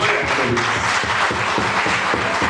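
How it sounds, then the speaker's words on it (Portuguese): A church congregation claps together in worship, a dense, steady patter of many hands filling the room continuously and fairly loudly, with no voices standing out. "Aplauda o nome do Senhor."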